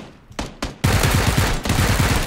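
Gunfire in PUBG: two single shots, then a sustained rapid automatic burst that breaks briefly and resumes, loud and close.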